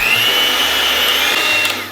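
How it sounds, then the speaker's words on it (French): A kitchen blender whips salted butter with garlic and harissa, its motor a loud, continuous high whine with no pauses. "Le mixeur arrive et on prémixe."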